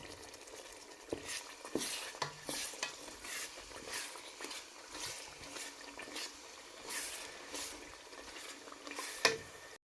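Rice and beef being stirred in a pot with bay leaves and roasted blended vegetables, a spoon scraping and clinking against the metal with soft sizzling and bubbling underneath, steady close-up stirring with a few sharper knocks.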